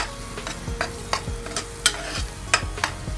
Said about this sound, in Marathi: मसाला व्यवस्थित थोडं तेल सुटेपर्यंत फ्राय करायचा